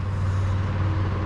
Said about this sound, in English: Loud doggone trucks